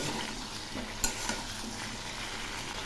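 Mixed vegetables with cumin and ginger paste sizzle and fry steadily in a pan, with a few soft scraping stirs and a light clink partway through.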